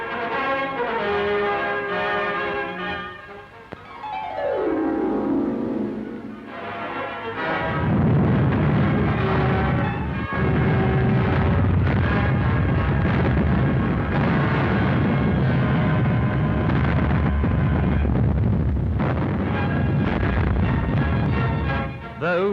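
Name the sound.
artillery guns firing at Stalingrad, 1943 newsreel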